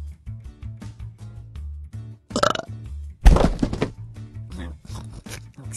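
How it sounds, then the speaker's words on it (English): A loud, gravelly burp rips out abruptly mid-clip, followed by a short rough crackling tail, set against a soft repeating low musical backing with no talking. "Excuse me for my loud burp."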